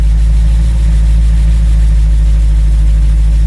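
Car engine idling steadily at around 800 to 900 RPM after a new distributor cap and rotor, a loud, even low rumble close by with no talking.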